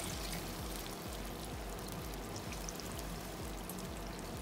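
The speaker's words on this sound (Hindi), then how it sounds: "अभी हम इसमें पानी डालते हैं" Water poured steadily into a pot of palak gosht, the Pakistani spinach and meat curry, as it cooks; a close, continuous splashing stream with no talk.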